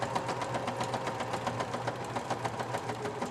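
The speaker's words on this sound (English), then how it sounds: "Okay, I'll be loosely sewing around everything." A sewing machine stitches loosely around the pages of a handmade journal notebook, a steady rapid mechanical chatter with regular needle pulses and a low motor hum, close and continuous with no talking.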